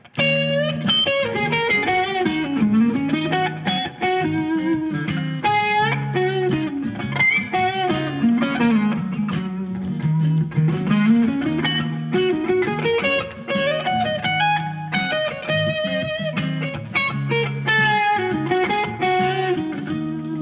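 Electric guitar with distortion solos using only pentatonic scale phrases over a chord backing, with loud, continuous melodic lines, bends and runs and no talking.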